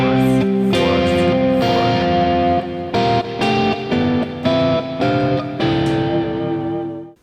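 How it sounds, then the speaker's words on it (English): Sustained chords built from stacked fourths ring out one after another in a regular rhythm, each struck and held with heavy effects processing and some distortion, with no voices. "Another cool sound is stacking fourths."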